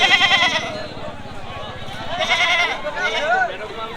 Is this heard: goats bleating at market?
yes